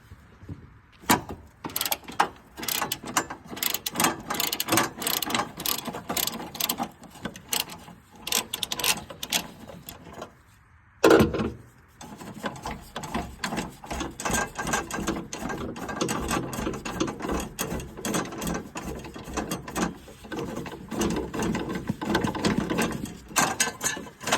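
Ratchet on a 12-inch extension working a 17 mm bolt out of a 2011-17 Honda Odyssey during a timing belt and water pump job: steady rapid clicking in repeated bursts, close and fairly quiet, with one brief pause midway.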